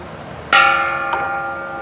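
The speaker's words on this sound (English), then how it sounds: "Let me hit the bell, I guess." A bell struck to open a kung fu class rings out loud and close with a long shimmering decay, followed by a second, softer strike about half a second later.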